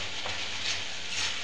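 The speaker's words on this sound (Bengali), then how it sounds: "মশলাটা দিয়ে কিছু সময় কষিয়ে নেব" Spices sautéing in oil in a pan, a soft continuous sizzle with faint stirring swells, quiet and brief.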